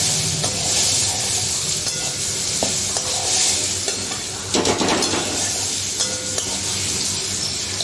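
Tomato and paneer frying in a pan for a vegetarian matar paneer, a constant loud sizzle with a spatula scraping and clattering against the pan, a burst of stirring midway, no talking.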